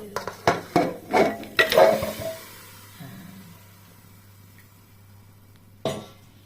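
Marinated meat tipped into a pressure cooker holding a little water, a quick run of clattering knocks and scrapes of metal and utensils over the first two seconds, then a low steady hum with one more clunk near the end.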